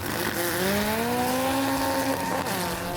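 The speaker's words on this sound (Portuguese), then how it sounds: "veículos de passeio são transformados em carros de corrida para provas de" A passenger car converted into a drag racing car roars through a rising engine pitch as it launches, loud and close, with a sweeping whine climbing over about two seconds.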